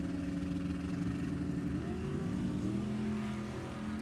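A loud, steady engine roar from drag racing cars, a '67 Fairlane and a '69 Chevelle, at an NHRA E.T. finals event. It holds a constant pitch for the whole stretch with no talk over it.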